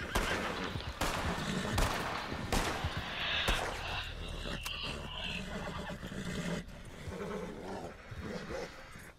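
Gunshots fired near a horse in the Red Dead Redemption 2 video game: several loud, sharp cracks spaced through the clip over game ambience, with a horse whinny and scattered noises in between.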